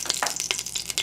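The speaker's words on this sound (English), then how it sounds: "That little sizzle won't hurt nothing." Olive oil sizzles steadily in a hot pan, a soft bubbling hiss with brief brighter spits.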